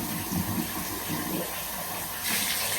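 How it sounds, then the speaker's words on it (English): Hot water runs and splashes as a container fills, a steady gushing hiss while grooming tools such as shears, combs and brushes are being cleaned. "And filling it up with hot water."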